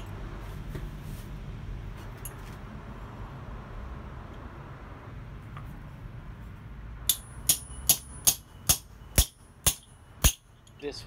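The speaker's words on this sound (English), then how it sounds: "I'm going to use a piece of copper to rivet this together." Copper rivet hammered while hand forging scissors: after several seconds of steady background hum, about eight sharp, ringing metal strikes land in an even, brisk rhythm close by.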